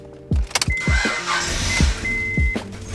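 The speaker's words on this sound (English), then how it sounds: "we're gonna go ahead and give her a start and see if we have power steering" A Honda Prelude with power steering problems cranks in a few short, quick bursts before catching, with a brief whine in between and the engine settling into a steady running rumble, close up.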